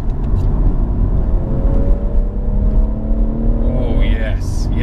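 BMW M140i engine heard from inside the cabin, a steady muffled rumble and whir with rising engine tones, while someone talks over it.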